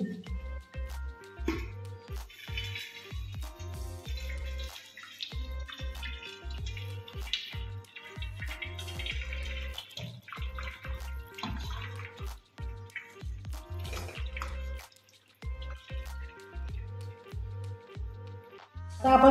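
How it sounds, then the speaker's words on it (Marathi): Water from a pot of cooked rice splashing and trickling out as it is drained, with repeated irregular spills and drips, fairly close and moderately loud, no talking. "आता आपण भातामधलं सगळं पाणी काढून घेऊ।"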